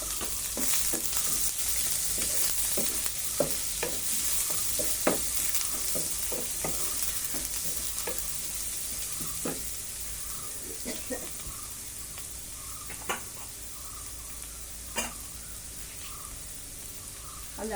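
Onions frying in oil alongside nuts and raisins for a semolina wheat upma, a steady close sizzle with scattered stirring clinks and taps from a spoon against the pan throughout, no talking.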